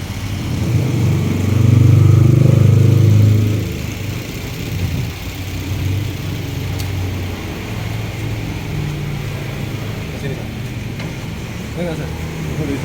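A 2012 Daihatsu Terios engine runs at idle with a steady low hum, rising briefly louder at the start before settling, while a person talks nearby.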